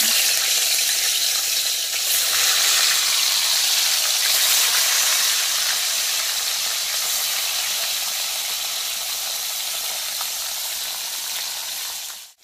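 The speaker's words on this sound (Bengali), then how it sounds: "তেল গরম হয়ে গেছে, এবার মাছগুলো দিয়ে দেব।" Fish fries in hot white oil with a loud, steady bubbling sizzle that fades slightly toward the end, with no talking.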